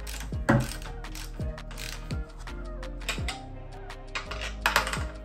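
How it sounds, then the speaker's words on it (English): Torque wrench clicking as it tightens coilover bolts to 33 foot-pounds on an Acura RSX Type S (DC5 Integra); a run of close, sharp ratcheting clicks in irregular short bursts, with no voices. "It's already set that on the torque wrench."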